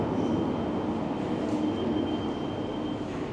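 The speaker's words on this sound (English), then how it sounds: "And we'll jump on the SkyTrain." Vancouver SkyTrain arriving at a station near Main and East Broadway, a steady loud rumble of the railcars rolling in with a faint high whine, constant throughout and no talk.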